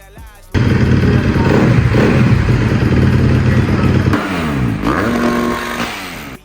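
Motocross bikes at the Indian Supercross Racing League 2025 grand finale in Kozhikode, loud sustained engine roar and revving close by, with pitch swells and drops as throttles open and close.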